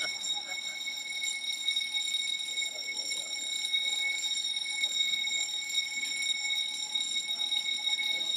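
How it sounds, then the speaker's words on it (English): A fire alarm sounds during a committee meeting as a steady, loud electronic tone with bright harmonics, continuing throughout with faint voices underneath. "It was a false alarm."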